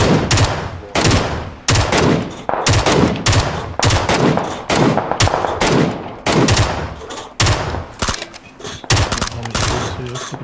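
Rapid gunfire from a PUBG squad match on the Taego map, played on Xbox Series X: loud, repeated bursts of shots and full-auto volleys fill the whole stretch, with short pauses between bursts and some talking mixed in.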